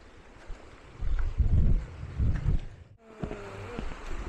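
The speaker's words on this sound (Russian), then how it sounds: "река Чираг." The Chirag river in Dagestan's Suleyman-Stalsky district flows with a steady outdoor rush, its flow rising and falling, partly buffeted by wind noise on the microphone, and it is heard without any voices.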